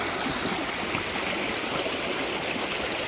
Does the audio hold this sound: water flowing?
yes